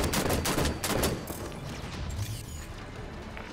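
Scattershot fired by a Knight in the Halo 5: Guardians game, a rapid burst of loud, crackling blasts that fade into a rumbling, noisy wash of battle sound.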